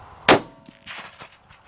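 A single hunting rifle shot firing a round with a bluish ballistic tip gives one sharp, loud crack, followed by a faint rattle and softer echoing noise fading away outdoors.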